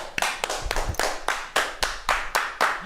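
Steady rhythmic hand clapping for a standing ovation, about ten sharp claps in even succession, close and fairly loud with no talk.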